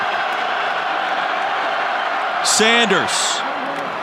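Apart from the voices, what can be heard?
football stadium crowd cheering on fourth down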